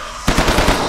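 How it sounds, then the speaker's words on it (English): Rapid automatic rifle fire in a video game, a quick burst of about six sharp, closely spaced shots starting abruptly after a short quiet moment. "This is where I can use my rifle!"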